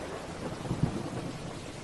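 Steady rain hisses throughout while a low rumble of thunder swells briefly in the middle, a stormy downpour heard from indoors.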